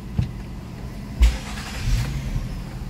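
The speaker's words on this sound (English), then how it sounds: "Car is running." A 2012 Nissan Maxima's engine idles steadily at close range during ECU reprogramming, a low continuous rumble with a couple of brief thumps.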